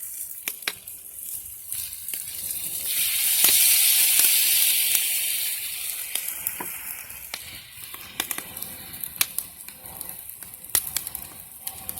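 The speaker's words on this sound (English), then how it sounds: "it's going to cook all this liquid off of that Coca-Cola, and it's just going to leave the sugars and the syrup" Vidalia onion cooking down in Coca-Cola in a pan, a steady hiss and sizzle swelling in the middle of the clip, with scattered clicks and pops throughout and no talking.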